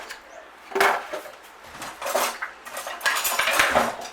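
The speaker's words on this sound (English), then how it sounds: "Chuck your mince in." Raw mince tipped into a pan with a little olive oil for a classic savoury mince on toast, with clattering pan and utensil knocks in several bursts over a few seconds, close and moderately loud, no talk.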